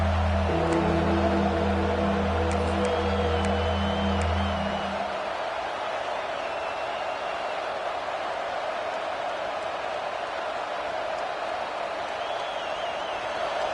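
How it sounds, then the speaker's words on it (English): MSU–LSU football stadium crowd roaring as a sustained, loud wash of noise, opening with a low droning tone that drops away while the roar continues, whistles and cheers rising above it. "The roar of the crowd trying to fuel this defense to keep them pinned in their own end."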